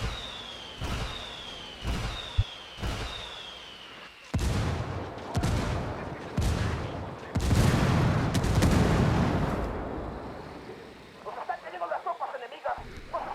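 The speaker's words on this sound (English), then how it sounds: "I'm calling for indirect fire" An indirect artillery strike in Ghost Recon Wildlands lands as a string of heavy booms and blasts, some spaced apart and some in quick clusters. A whistling descent comes before the first impacts, and smaller crackling bursts trail off at the end.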